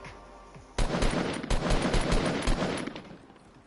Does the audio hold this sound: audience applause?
no